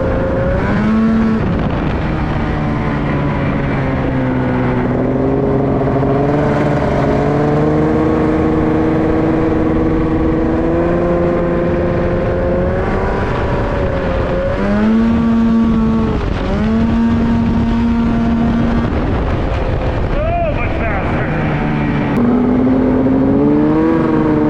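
A Honda Pilot FL400r and a Polaris Ace 900 race, their engines roaring loud and close throughout, with pitch climbing and dropping through repeated revs and shifts.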